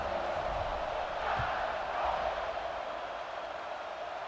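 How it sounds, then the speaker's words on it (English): A stadium crowd in EA Sports College Football 26 buzzes with a steady, dense roar after a touchdown in an Alabama versus Ohio State title game, continuous and fairly loud beneath faint commentary. "this crowd is buzzing after that last score"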